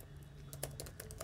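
Rapid typing on a computer keyboard while writing JavaScript code, a brisk run of light, irregular key clicks over a faint steady hum, with no talking.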